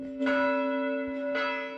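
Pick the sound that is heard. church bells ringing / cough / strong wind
church bells ringing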